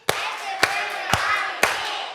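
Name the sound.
children clapping a rhythmic clap together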